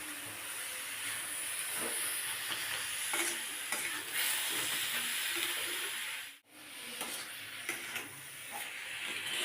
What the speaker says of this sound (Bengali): এবার আমি ভালোভাবে একটু নেড়ে পরে পাটিসাপটা পুরটা তৈরি করে নেব।